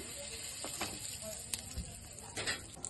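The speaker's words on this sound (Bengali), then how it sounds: "তেলের মধ্যে অল্প হিং দিয়ে দিলাম" A pinch of asafoetida drops into hot oil with bay leaves and dried red chillies, giving a faint, steady sizzle and hiss with a few light stirring clicks.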